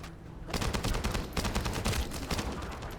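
Dense automatic gunfire from the shooter game The First Descendant, a sustained rapid burst of loud, closely spaced shots that starts half a second in and keeps going to the end, with no talking.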